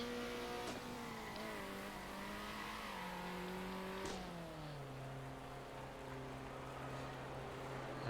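Race car in the Circuit Superstars video game slowing on its in lap on an oval and heading into the pit entry, a steady engine drone with shifting pitch that drops as it slows, with no speech.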